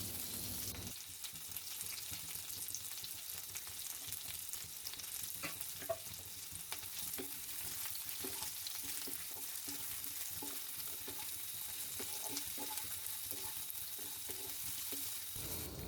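Chopped onions sizzle steadily in a hot pan while being stirred, a dense continuous frying hiss with scattered scraping clicks from the spoon throughout.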